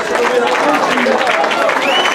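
Applause and cheering from a carnival crowd in Heibloem, a steady dense clapping wash lasting the whole moment, with voices mixed in.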